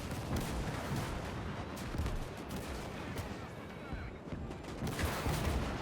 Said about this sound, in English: those IS-2s are taking some serious fire